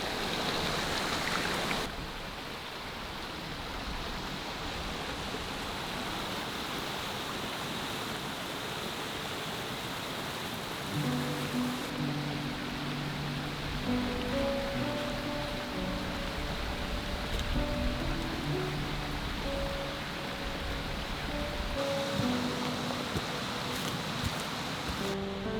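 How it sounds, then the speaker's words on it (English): Cool mountain stream and waterfall running off the hills on a Kaimai bush track in New Zealand, a steady broadband rush of water that holds evenly throughout, with faint tonal ripples in the flow and no voices. "beautiful falls, nice cool water"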